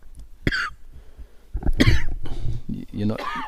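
Several harsh coughs in quick succession, close by, mixed with speech, at a singles match of a lawn bowls tournament.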